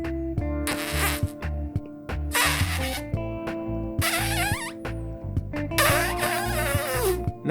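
A voice imitates a clothing zipper with the lips, sucking in air in four separate shaky, buzzing bursts, each about a second long and close to the microphone, with quiet gaps between them.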